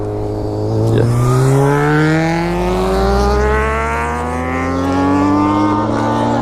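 Several motorcycles blast away from a roadside stop, engines revving hard through rising gear pulls, loud and close at first before fading into the distance; no one speaks.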